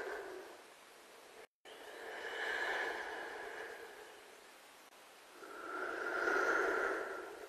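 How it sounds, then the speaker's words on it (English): A creepy heavy-breathing sound effect from a video game: two slow, drawn-out breaths swelling and fading, close and hollow, with no speech. "There's a pretty creepy sound effect of some heavy breathing."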